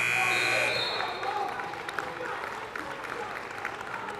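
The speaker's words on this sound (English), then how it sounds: "Rick off the glass for 2 at the buzzer is Eisner." A buzzer sounds at the end of a high school girls' basketball game against Medford, followed by crowd applause and cheering that carries on loudly in a gym, with a commentator talking throughout.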